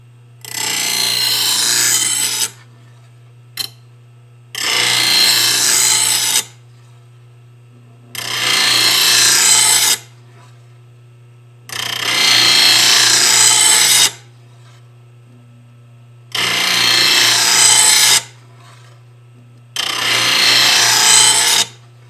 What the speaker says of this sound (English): Of course, when you grind, it's not going to be quiet